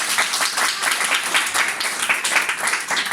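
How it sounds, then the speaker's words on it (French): Dense applause from an audience at an artistic workshop gathering, many hands clapping continuously and evenly for about three seconds, fairly loud and close, with no talk over it. "Alors, on peut les applaudir, bravo,"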